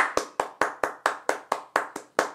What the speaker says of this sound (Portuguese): um minuto de palmas para o cinema sul-coreano